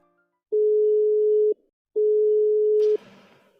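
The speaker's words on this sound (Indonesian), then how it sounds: "Perlahan-lahan menekan tombol angka yang ada di telepon tersebut dan hendak menelpon sahabatnya tersebut." A public telephone handset gives two long, steady electronic tones separated by a short silence, loud and close, with a brief burst of noise as the second tone ends.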